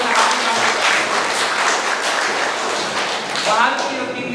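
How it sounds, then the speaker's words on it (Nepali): Applause at the opening of an astrology conference as guests are welcomed to the stage, a dense sustained wash of many hands clapping, fairly loud and steady throughout, with a voice briefly audible near the end. "उहाँलाई सामूहिक रूपबाट तालीले स्वागत गर्न हार्दिक"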